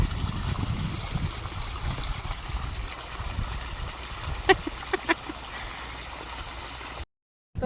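Irrigation water runs steadily along a field channel with a constant soft rushing trickle, punctuated by a few brief sharp clicks before the sound cuts out abruptly.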